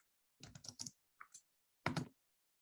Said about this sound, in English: Now it doesn't add in the state, so I'm just going to manually type that in